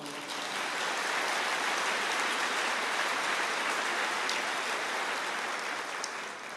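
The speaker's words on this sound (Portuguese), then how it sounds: "Pode aplaudir o Senhor." A church congregation applauds at a sermon, a steady, broad wash of clapping that sounds distant and diffuse and holds for the whole stretch without talk.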